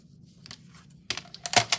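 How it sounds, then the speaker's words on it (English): A craft cutter slices out paper cards at close range: quiet handling first, then a burst of crisp scraping and clicking strokes near the end. "I'm going to use the cutter."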